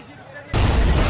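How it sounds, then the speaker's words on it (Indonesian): A bomb explosion in a film set in a Saudi Arabian housing compound bursts in suddenly as a loud, broadband blast after about half a second of quieter, murky sound, then roars on without fading. "Tak selang berapa lama, terjadi lagi ledakan kedua."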